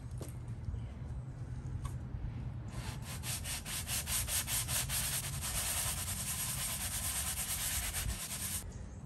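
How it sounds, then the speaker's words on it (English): Steady rasping strokes of a sanding block rubbed across a truck's body panel, close and continuous for several seconds, growing brisker and scratchier midway. "I think I'm going to use a sanding block."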